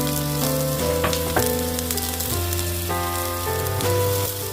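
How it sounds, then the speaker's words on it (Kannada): Chopped garlic and onion frying in hot oil in a pan for a masala fish fry, a steady close sizzle with occasional pops and crackles running throughout, no voices. "ಅದು ಚಟಪಟ ಎನ್ನುತ್ತಿದ್ದಂತೆ ಕತ್ತರಿಸಿ ಇರಿಸಿದ ಬೆಳ್ಳುಳ್ಳಿ, ಈರುಳ್ಳಿಯನ್ನು ಅದರ ಮೇಲೆ ಹಾಕಬೇಕು."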